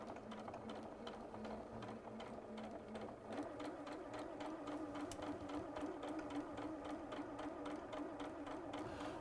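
A sewing machine stitches fabric straight over pins during a sewing-show garment demonstration, giving a steady, rapid mechanical rattle that runs evenly at moderate volume for the whole stretch with no talking.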